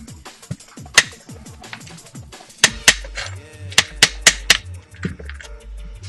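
Tapping on the top plate of an Echo1 MTC airsoft rifle during takedown: a run of sharp metallic taps and clinks, irregular and close, louder in the second half, with brief low thumps between.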